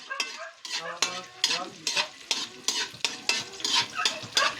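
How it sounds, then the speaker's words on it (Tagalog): Chili peppers sautéing in a pan with coconut milk nearby, giving steady close sizzling broken by repeated rhythmic scrapes and clanks of a utensil stirring against the pan. "Gisa mo natin itong sili"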